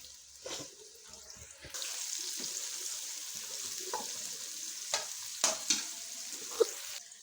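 Two medium onions fry in oil in a kadai, a moderate sizzle that rises after a quiet start, punctuated by occasional clinks and scraping stirs.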